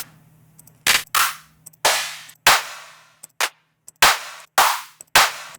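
Crowd clap samples auditioned one after another for a 90 bpm track, eight sharp, punchy hits with short decaying tails separated by brief silences, close and loud.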